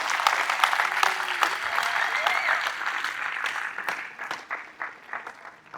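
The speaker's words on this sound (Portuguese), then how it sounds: "Se é para Jesus, dá um aplauso aí de 1 minuto." A church congregation breaks into lively applause, dense clapping that gradually thins and fades toward the end, with faint voices and cries mixed in.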